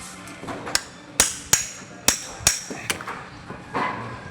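Hammer blows drive a protruding electric fan shaft back into place, with about seven sharp metallic strikes at irregular intervals, close and loud against a quiet background.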